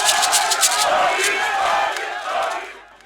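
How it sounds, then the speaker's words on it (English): A mammoth crowd of Labour Party supporters in Benin City cheers and roars loudly and continuously as Peter Obi is received, then the noise fades slightly at the end. "abour Party presidential candidate Peter Obi was received by a mammoth crowd of party supporters in Benin City."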